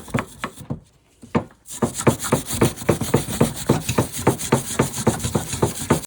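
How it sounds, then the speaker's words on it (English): A stiff brush scrubs a rear brake caliper bracket on a 2019 Ford Fusion Hybrid, cleaning the pad channel in quick, steady back-and-forth rasping strokes, close and fairly loud after a brief pause. "I just have this brush. Clean it off very nicely."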